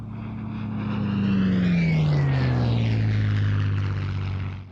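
A propeller aircraft built in 1944 and flown by the RAF makes a pass at a Scottish airshow, its engine swelling to a loud peak and then dropping in pitch as it moves away.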